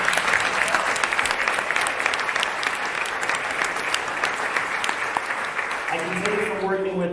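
A conference audience applauds Dorian and Gemma during a study announcement, loud continuous clapping from a large crowd that tapers near the end as a voice starts speaking.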